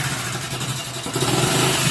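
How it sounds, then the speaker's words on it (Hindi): A Hero HF Deluxe BS4 motorcycle with a troubled engine at about 50,000 km runs close by, a rough, steady idle that picks up slightly in pitch partway through. "इंजन काफ़ी दिक्कत दे रहा है इस बाइक का, और आप इसे चालू करके स्टार्ट करके देख लो"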